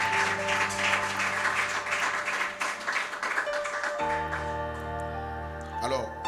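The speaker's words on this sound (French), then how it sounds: "Acclame encore Jésus" A church congregation applauding during a service, a dense wash of clapping with voices mixed in, then shifting into sustained music or singing partway through.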